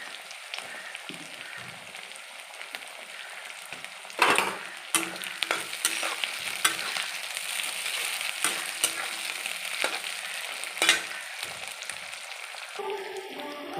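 Capsicum stir-fried in a pan for chilli paneer, a soft hiss at first, then loud crackling sizzles and repeated sharp scraping and tossing strokes of a spatula, close up, with a few faint tones near the end.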